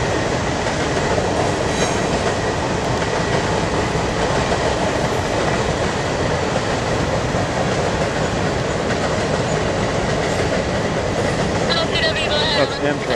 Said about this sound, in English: That's Amtrak.